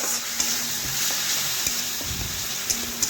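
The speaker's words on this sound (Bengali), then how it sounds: "সেই টমেটোগুলো দিয়ে দিচ্ছি। মশলার সাথে ভালোভাবে ভেজে নেব এইভাবে নাড়াচাড়া করে।" Chopped tomatoes fry with spices in a pan, giving a steady close sizzle while a utensil scrapes and taps at intervals as the mixture is stirred.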